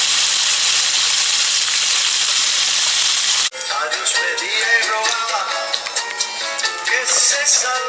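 Beef chunks for a Cuban braise sear in a hot pan, a loud steady hiss that breaks off abruptly partway through into busier crackling, spitting sizzle.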